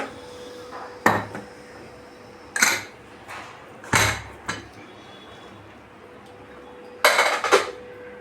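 Metal clatter of opening a pressure cooker after cooking red lentils: five sharp bangs and clinks of a steel lid and pot, spaced a second or more apart, close by in a quiet kitchen.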